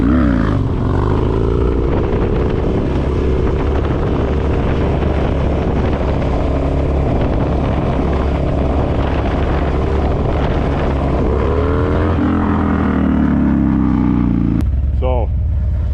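A Harley-Davidson Dyna motorcycle engine rumbles loud and steady while riding, with a deep continuous drone that rises and falls in pitch as the throttle changes, wind buffeting throughout and a voice talking over it.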